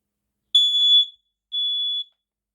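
Two shrill electronic alarm beeps from a smoke detector, each about half a second long, separated by a brief pause.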